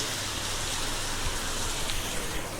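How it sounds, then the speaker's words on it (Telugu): Rain falls steadily at an army base camp in Jammu and Kashmir, a soft, even hiss of drops with no clear individual impacts and no voices. "ఇగో వాతావరణం అయితే ఫుల్ వర్షం."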